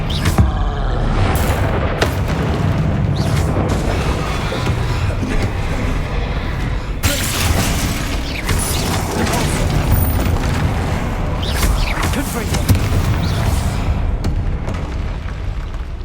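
Repeated booming spell blasts from the Confringo fire spell in the video game Hogwarts Legacy, a dense loud barrage of explosions layered over continuous game combat noise and music for the whole stretch.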